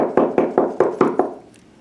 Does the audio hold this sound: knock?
yes